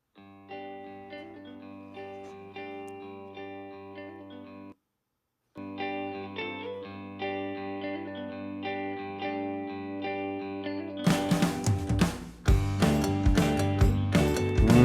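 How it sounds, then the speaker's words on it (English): A band plays a math rock instrumental with bright, clean, chiming guitar lines over steady rhythm, briefly dropping out before returning louder with heavier drums and cymbals. "It's kind of math rock, but it's like clean tones."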